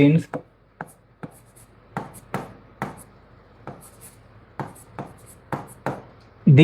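Marker or chalk strokes on a board during a genetics lecture, coming as a close, irregular series of short scratchy taps and swipes with brief pauses between them, and no voice over them.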